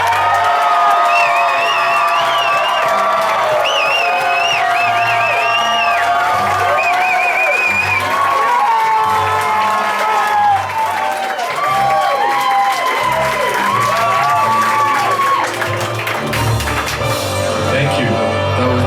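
A live audience at a Shame That Tune finale at the Hideout applauds and cheers for contestant Brian: sustained loud clapping with whoops and shouts, a continuous crowd roar lasting many seconds.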